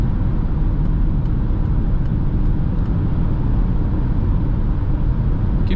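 Peugeot e-2008 2021 electric car accelerating hard in sport mode on a Croatian motorway at night, a steady loud broadband road and wind roar with a faint motor whine, continuous without pause.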